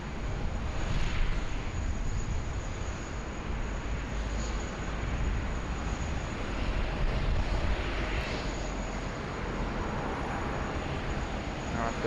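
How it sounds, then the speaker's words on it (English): A Dash 8 turboprop airliner takes off from runway 16 at Sydney Airport, a steady, loud engine roar and broadband rush holding at the same level throughout, with no talk over it. "Got a Dash 8 getting underway off runway 16 right there."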